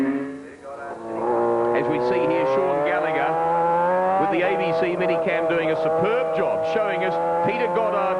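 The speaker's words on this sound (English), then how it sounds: "getting away from them is both the Honda of Malcolm Campbell and the 2 Kawasaki's. So down the straight they come" Superbike motorcycles, a Honda and two Kawasakis, race down the straight at Phillip Island in 1989, their engines loud and close in a sustained, rising whine as they sweep past, with commentary over the top.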